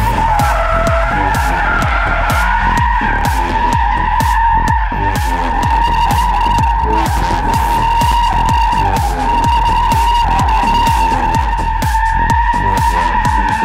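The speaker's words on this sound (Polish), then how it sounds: "A na zakończenie filmu przy pomocy tego samochodu zakręcimy bączka." Tires squeal loudly and continuously as a 2023 Mazda MX-5 spins in tight circles, engine roaring steadily with repeated rhythmic pulses of skidding.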